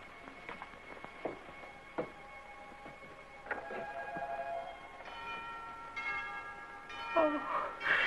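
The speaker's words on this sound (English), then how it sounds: "Chimes of Santa Maria coming from the village church." Church bells of Santa Maria chime from a village church in a 1955 period drama. The ringing tones are faint and distant and build up over the second half, over a quiet room background with a few soft knocks.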